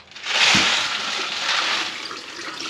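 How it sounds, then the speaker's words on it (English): Water gushes out of a wet brass-cleaning tumbler in a steady rushing stream, starting with a splash and continuing as a loud, even pour. "That water's coming out pretty clear."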